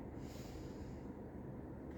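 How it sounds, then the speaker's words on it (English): A deep, drawn-out inhale through the nose during yoga pranayama breathing practice, a soft, close, airy rush that fills most of the moment above a faint steady background hiss. "you're going to take a deep breath in"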